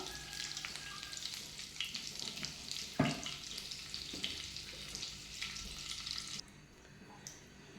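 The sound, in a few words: cumin sizzling in hot oil and melted butter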